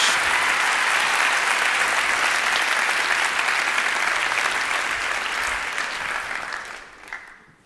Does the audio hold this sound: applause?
yes